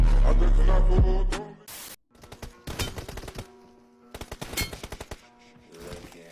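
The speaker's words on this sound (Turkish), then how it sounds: "karşıdaki boşa sıkıyor yalnız" Bursts of automatic gunfire in the mobile battle royale game PUBG Mobile, loud and rapid, with a short pause between volleys and the shots carrying on alone without voices.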